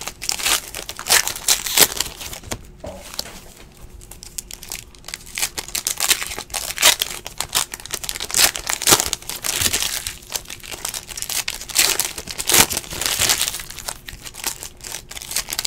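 A 2017 Contenders football trading card box is torn open, giving a continuous run of loud, close crinkling, ripping and crumpling of packaging, dense and irregular with no pauses.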